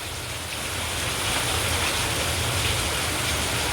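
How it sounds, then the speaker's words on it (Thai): Steady rain pours down in a broad, even hiss that holds from start to finish with no break, close and fairly loud, and no one speaks. "อ่าฝนตกแล้"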